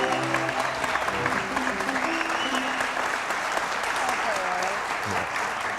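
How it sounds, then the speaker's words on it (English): Supporters in a crowd applaud steadily, a dense even patter of clapping that holds at moderate level, with someone speaking over it. "A lot of the applause we heard out there were from the folks out at Brantling"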